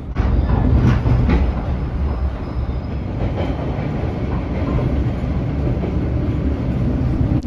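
A Boston MBTA Red Line subway train runs along the tracks, a loud continuous rumble and roar with faint clacks, close and steady throughout.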